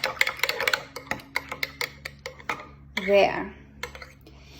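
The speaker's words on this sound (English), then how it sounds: "I'm going to mix it up. Get all the clumps out." Homemade fingerpaint is stirred in a container to break up clumps, with a series of sharp, rhythmic clinks and taps of a utensil against the sides, close-up, and a brief spoken word partway through.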